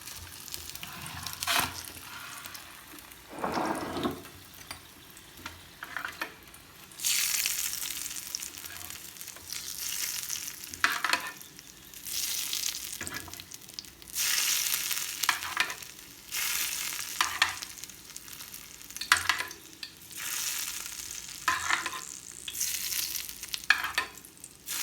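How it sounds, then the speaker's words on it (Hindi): Hot tempering (bhugar) poured over cooked chana dal with spinach, sizzling loudly in repeated crackling bursts that swell and fade, close up with no talk. "अब हम इसके ऊपर लगा देंगे भुगार"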